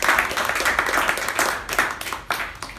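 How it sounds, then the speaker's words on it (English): Applause from an audience at a Toastmasters meeting, a steady wash of many hands clapping that gradually thins out toward the end. "can we have a huge round of applause?"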